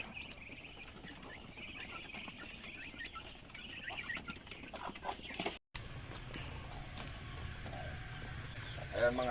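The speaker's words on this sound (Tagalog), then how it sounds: "kukunin natin yung isang inahin na namisa na manok" A brooding hen that has hatched chicks clucks on a rural Philippine farm, soft repeated clucks and chirping amid rustling farmyard noise, with a brief dropout midway.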